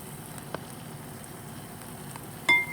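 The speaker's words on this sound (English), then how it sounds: "let me saute on the sides while our beef steak is cooking" A ribeye beef steak cooks in a pan while something sautés beside it, giving a soft, continuous low sizzle with a couple of faint utensil taps and a brief sharper scrape at the end.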